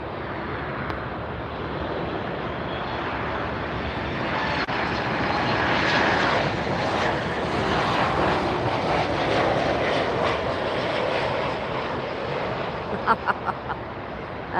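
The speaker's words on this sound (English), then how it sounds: "Or maybe we'll just let Copa fly over the 747." Copa Airlines airliner passing overhead at Miami Airport, a loud jet roar that swells through the middle and slowly fades, with a few sharp knocks near the end.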